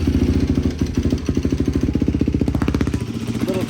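A Yamaha YFZ450 ATV engine sputters to life and settles into a steady, loud, rhythmic idle up close, a slight rev near the end.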